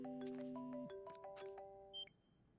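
An electronic ringtone plays a quick melodic sequence of bright tones, fairly quiet, ending with a short beep; no voices.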